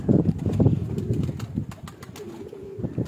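Lakha pigeons on a rooftop loft, one a big male, give low throaty coos in short repeated bursts up close, with faint wing flutters and occasional chirps behind.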